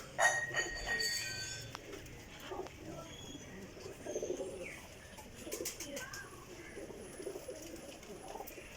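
Baby pigeons of a champion flying breed coo softly at a pigeon loft, a few low burbling calls scattered across the stretch amid faint background noise.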